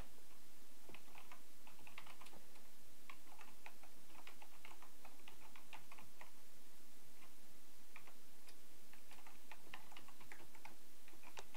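Rapid, irregular clicking of keys on a computer keyboard during Java programming, quiet and close, in uneven bursts with short pauses, no voices.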